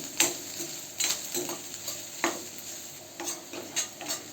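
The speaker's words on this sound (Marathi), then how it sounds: "त्याच तेलामध्ये आपण कांदा टाकूया आणि कांदा पण चांगला गुलाबी कलर येईपर्यंत परतून घेऊया." Onion frying in oil while being stirred for stuffed brinjal masala, a soft continuous sizzle broken by repeated spoon scrapes against the pan at an uneven pace, close and moderately loud.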